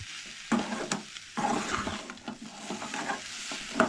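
Soy chunks with onion, tomato and beans sizzle steadily in a hot pan, with repeated stirring scrapes and clatters of a spoon over the continuous frying hiss, close and fairly loud with no talking.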